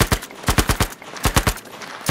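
Rapid bursts from a submachine gun in the video game Battlefield V, close and loud, with sharp shots in quick clusters separated by brief pauses and no talking.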